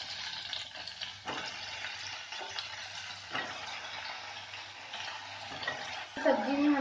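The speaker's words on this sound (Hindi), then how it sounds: "और सब्जी फ्राई हो चुका है" Vegetables with onion and chili frying in a pan, a soft, steady sizzle broken by several spatula stirs and scrapes, fairly quiet and close, with a clink near the end.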